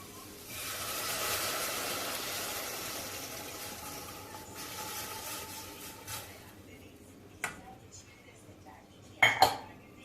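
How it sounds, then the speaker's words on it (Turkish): Tomato and flour mixture being whisked in a pot on low heat, a steady scraping swish for several seconds that fades, followed by a few sharp clinks of the whisk against the metal pot. "Şöyle güzelce bir çırpalım pürüzsüz hale gelsin."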